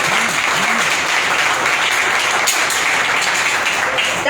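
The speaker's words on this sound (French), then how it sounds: "On l'applaudit bien sûr." Audience applause at an award ceremony honoring inspiring young people, a dense, sustained wash of clapping from a large crowd, loud and even, with a faint voice near the start.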